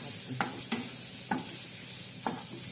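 Spices and turmeric are stirred and fried in a pan, with a steady sizzle underneath four sharp scraping strokes of a spoon spaced unevenly.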